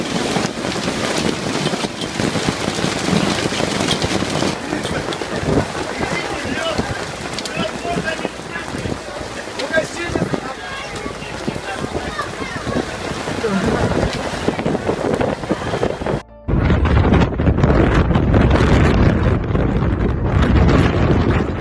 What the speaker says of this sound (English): A crowded beach quickly turned into a chaotic scene when hail began to fall.